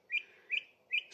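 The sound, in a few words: green woodpecker calling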